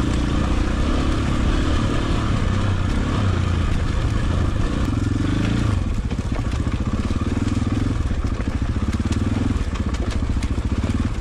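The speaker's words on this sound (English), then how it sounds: "Pretend I'm not riding a super heavy dirt bike." KTM 950 heavy dirt bike engine rumbling steadily up close while riding downhill over rocky terrain, with continuous low throbbing and rattling clatter from the bike.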